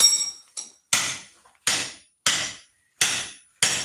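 A steel hammer drives a wooden handle onto a spike axe head made from a masonry hammer: seven sharp, ringing metallic strikes at a steady, deliberate pace, loud and close, each decaying before the next, with no talking.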